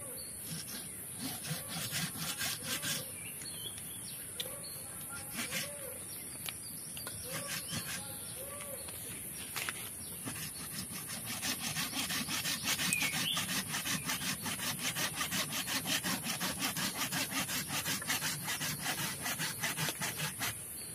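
A hand saw cuts through a tree branch in steady back-and-forth strokes, the rasping rhythm quickening and growing a bit louder toward the end, with insects chirping faintly outdoors.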